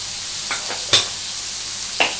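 Boneless chicken frying in a pan, with a faint steady sizzle and a few brief scraping stirs from a spoon, one sharper clink near the middle and another toward the end, with no voices.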